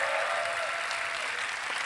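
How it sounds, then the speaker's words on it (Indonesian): An indoor audience at a 2024 Indonesian post-debate presidential campaign event claps in a steady, dense burst of applause, fairly soft and distant, with no talk over it. "Saya minta tepuk tangannya dulu pada malam hari ini."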